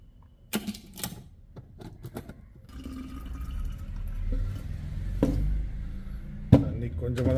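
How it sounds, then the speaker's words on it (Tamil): Water is poured into a protein shaker before mixing whey protein powder. A few sharp plastic clicks and knocks come first, then a steady splashing fill that gradually deepens and grows louder, ending with another knock. "தண்ணி கொஞ்சமாக தான் ஊற்றிருக்கேன்."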